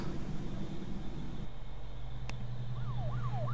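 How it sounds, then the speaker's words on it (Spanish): Emergency siren in the video game Her Story, a wailing tone rising and falling in steady sweeps near the end, faint behind a low hum and background noise, with no talk. "No sé si ya suena una sirena."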